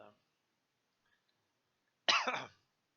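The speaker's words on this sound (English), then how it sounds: "Sorry about my coughing" A single short, harsh cough close to the mic after a quiet stretch, with a brief trailing sound at the very start.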